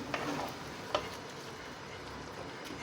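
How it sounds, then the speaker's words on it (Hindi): Spinach being stirred in a cooking pot while preparing palak gosht, heard as a soft, steady sizzle and scraping with a couple of faint clinks of the spoon against the pot. "अब मैं दोबारा इसको चलाना शुरू कर रहा हूँ, देखो ये चल रही पालक"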